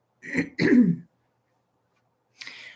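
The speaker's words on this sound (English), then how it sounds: "you will hear me clear my voice, clear my throat rather." A person clears their throat twice in quick succession, close and distinct, followed by silence and then a brief breathy rasp.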